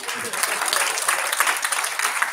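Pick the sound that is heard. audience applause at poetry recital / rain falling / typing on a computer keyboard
audience applause at poetry recital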